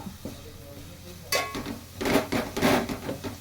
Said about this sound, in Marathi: मिक्स करते कांदा सगळा.